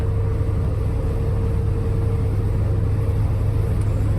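A Ford F100 truck with a Crown Vic suspension swap drives along the road, its steady engine drone and low road rumble filling the cabin continuously and loudly without pause.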